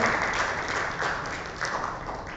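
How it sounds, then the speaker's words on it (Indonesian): Short burst of audience clapping at a student drug-awareness speaking competition, steady and moderately loud for a couple of seconds. "tepuk tangan semua ya"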